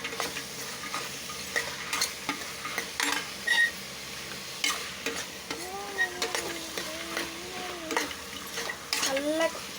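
A spoon stirs and scrapes through curry in a frying pan over a soft sizzle, with scattered clinks and taps of metal in uneven bursts, close by.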